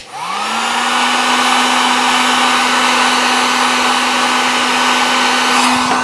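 A heat gun shrinks heat shrink tubing over a wire in a 1965 Chevrolet C10 pickup: a loud, steady blowing roar spins up quickly and holds constant for several seconds, close and alone.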